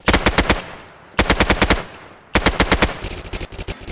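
Automatic gunfire from a Roblox shooting game called Blood and Guts rings out in three loud, rapid bursts separated by short pauses, the last trailing into scattered softer shots.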